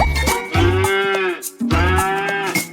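Two long, loud cow moos, one after the other with a short gap between them.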